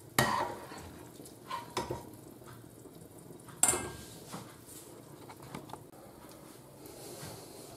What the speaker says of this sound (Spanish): Saco con la paleta para dejar el aceite sobrante aquí